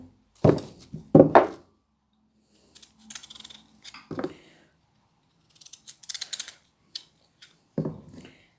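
A few sharp knife chops through potatoes on a cutting board, close and irregular, with quiet pauses between the strikes.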